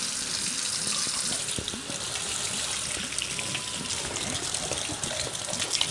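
Canned kidney beans are rinsed under a running kitchen tap, a continuous close splashing gush of water onto beans with faint irregular patters throughout and no one speaking.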